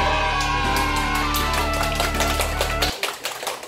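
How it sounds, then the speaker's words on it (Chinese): Brief, scattered clapping from a small group after a spicy gua bao cooking challenge, heard over steady background music, a few hesitant claps fading out as the music stops. "一阵尴尬的鼓掌之后"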